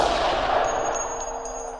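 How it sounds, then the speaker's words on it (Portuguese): A single gunshot from a soldier's firearm in a film scene, a loud broadband blast that decays over about two seconds, with a faint high ringing tone afterward. "O soldado atira."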